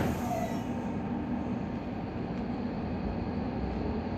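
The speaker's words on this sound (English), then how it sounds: "Train departing." A train pulls out of Stratford station at night with a steady, loud rolling rumble and faint wheel squeal, the noise constant throughout.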